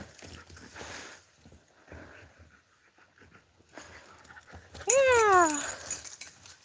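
Dog playing outdoors in a New Hampshire garden at fall harvest: quiet scuffling and movement, then a loud, close, rising whine or yelp near the end.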